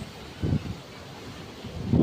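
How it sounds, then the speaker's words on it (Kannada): Strong wind buffets the top of a watch tower at Kapu beach, rumbling across the microphone in two heavy gusts with a quieter rush of air between them. "ವಾಚ್ ಟವರ್ ಮಿತ್ತಡೆ ಗಾಳಿ ಬರ್ಕೊಂಡು"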